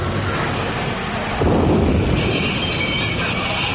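A sci-fi audio drama lightning strike hits as a loud, broad roaring crackle, a steady rumbling burst that jumps in intensity partway through and then sustains.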